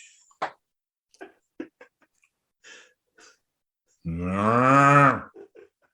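A cow gives one long, loud moo close by, after several short breathy snorts and sniffs, in a barn where the whole floor is covered in feed.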